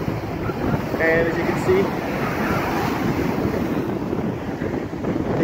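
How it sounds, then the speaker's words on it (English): Strong wind buffets the microphone while ocean waves surge against the seawall at Georgetown, Guyana, a constant loud roar of surf with someone talking over it. "It's a windy morning,"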